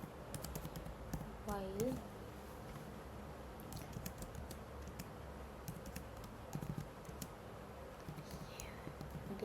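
Rapid clicking of typing on a computer keyboard while code is written, steady and fairly faint under a low room hum, with a person speaking briefly over it.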